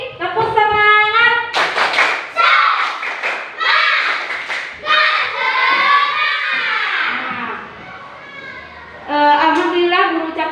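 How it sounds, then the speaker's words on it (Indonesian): Classroom children chant the 'tepuk semangat' clapping routine together, sung voices rising and falling with sharp bursts of group clapping at irregular intervals, loud and close throughout. "silakan kita tepuk semangat dulu lagi sekali. Tepuk semangat."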